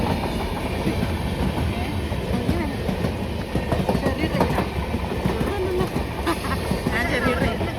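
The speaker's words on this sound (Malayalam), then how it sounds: "ഇതാണ് ചെറിയ ട്രെയിൻ. ഇതിവിടെ നിർത്തൂല," A small passenger train passes nearby without stopping, rumbling and clattering with rhythmic clacking of wheels, loud and continuous, with faint voices mixed in.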